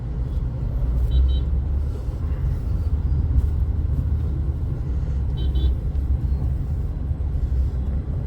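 A car in second gear during a driving lesson gives a steady, loud, low engine rumble from inside the cabin, with no talk.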